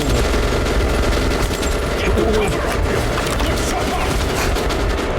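Dense, continuous gunfire in the video game Metro Last Light Redux, loud and sustained throughout with rapid overlapping shots and a voice talking underneath.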